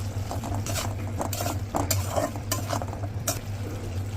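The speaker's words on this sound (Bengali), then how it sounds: "এখানে সবকিছু মশলা দিয়ে ভালো করে কষিয়ে নেব" Vegetables with spices being stirred and fried in a pan for a Bengali fish curry with beans and cauliflower: steady scraping stirs and light sizzling, close and continuous, with soft clinks of a utensil against the pan.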